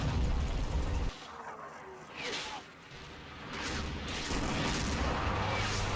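A Combat Mission wargame artillery barrage of smoke rounds rumbles in heavy, continuous booms and bursts, loud and sustained, with a narrator's voice speaking partly over the din.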